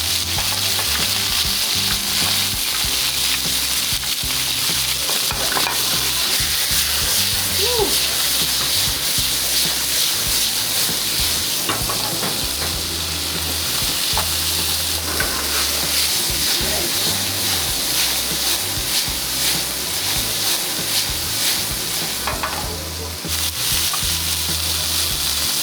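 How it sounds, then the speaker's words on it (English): Lamb sizzles and fries loudly in a pan at a food spot in Brasov, Transylvania, a steady crackling hiss with stirring that runs throughout, with faint voices in the background. "Wow, look at all that lamb grilling up in that pan."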